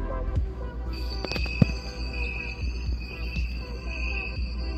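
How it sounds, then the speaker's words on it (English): Crickets chirp from a Rossetta star projector in its white noise sound mode: a steady high trill layered over a low, regular throbbing pulse and hum, continuous and moderately loud with no talking. "Alright, so we got some crickets."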